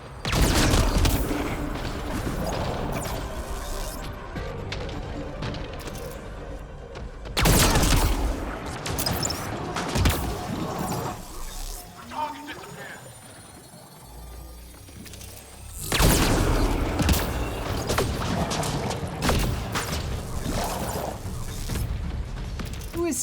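Mass Effect video game combat: dense bursts of rapid gunfire and mechanical weapon noise in three loud stretches, separated by quieter gaps with scattered shots and effects.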